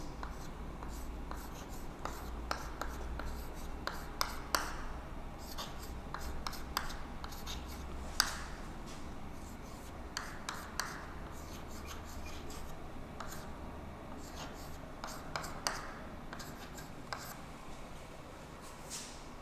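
Pen or pencil writing by hand on paper, a steady scratchy rubbing with frequent small taps and strokes, close and quiet, continuing for a long stretch without speech.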